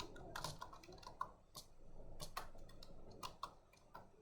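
Keys clack on a computer keyboard in short irregular bursts, including a Control+C copy, quiet and close with no voices.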